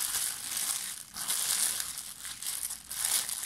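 Paper wrapping around a cardamom-scented Georgian Easter cake crinkles and crunches in close, continuous bursts of handling, loud and busy throughout with no voices.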